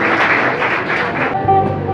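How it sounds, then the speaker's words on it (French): Audience applause at a slam poetry and music show in Jacmel, a dense, loud wash of clapping throughout with some crowd noise and a brief tonal sound near the end. "On applaudit s'il vous plaît."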